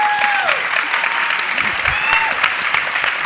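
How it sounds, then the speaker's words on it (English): An audience at a keynote on political satire bursts into steady, dense applause, the clapping continuous and close, with a few whoops over it. "Applause break."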